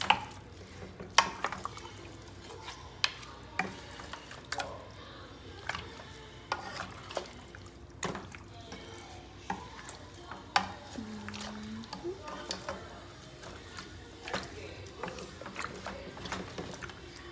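A spoon stirs and scrapes through Dominican oxtail stew in a pot, irregular clacks against the metal with a soft wet simmer beneath, close and steady throughout.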